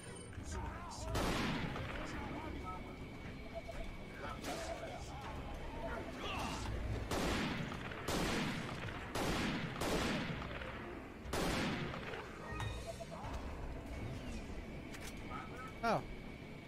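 Video game gunfire cracks out in sharp bursts of single shots and quick clusters, spread across the clip. A player talks over much of it.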